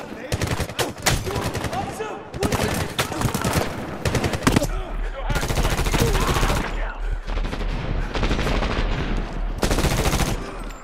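Rapid bursts of loud, close automatic machine gun fire rattle in the Medal of Honor combat game, broken by short pauses and then a long sustained volley.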